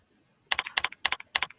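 A computer keyboard being typed on to enter a dollar amount: four quick bursts of close, crisp key clicks in a steady rhythm after a short quiet start, with no voices.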